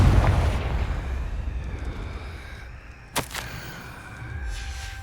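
Confringo fire spell cast in Hogwarts Legacy, a sharp burst at mid-clip rising out of a low rumbling game ambience, followed by a softer thud and lingering tone.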